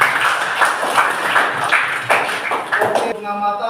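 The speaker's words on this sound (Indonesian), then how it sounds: "Tepuk tangan buat tadi." A classroom group applauds with a burst of rapid clapping that continues steadily, mixed with voices, then tapers off at the end.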